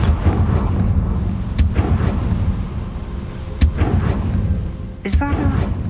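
In the Hogwarts Legacy video game, the Confringo blasting spell goes off as several sharp booming bursts with crackling tails over a low game ambience, and a voice speaks between the blasts.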